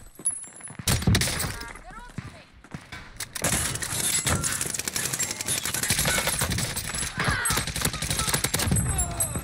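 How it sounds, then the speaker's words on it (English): Rapid gunfire bursts in a console shooter video game, dense crackling volleys that begin about a second in and continue almost without pause, with players talking over the action. "Shoot him, Zayas, get out there!"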